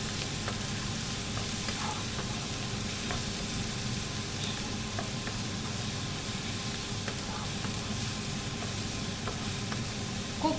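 Capsicum fries in a pan with steady, close sizzling and intermittent scraping of stirring throughout, a dense crackling hiss with no talking.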